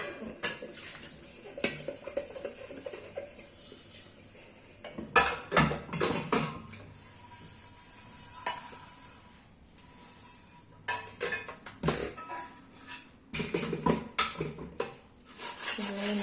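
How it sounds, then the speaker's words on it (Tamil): A pot is washed by hand, its inside scrubbed in bursts with rubbing and scraping, broken by clanks and knocks of metal against the sink and other dishes, close and fairly quiet, with no talking. "இப்போ உள்பக்கம் மட்டும் தேய்ச்சிடுறோம்."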